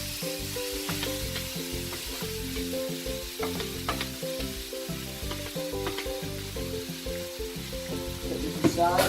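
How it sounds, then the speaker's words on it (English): Beef for stroganoff sizzles in a hot frying pan, a steady close crackling hiss with occasional pops and stirring clinks. "That's the noise you want to hear, that sizzle."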